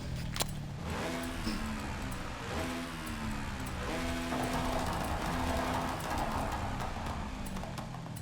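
A Polaris RZR PRO XP Factory Racing limited edition off-road buggy drives in Forza Horizon, its engine whining and rising in repeated surges under a continuous, moderately loud road and gravel noise.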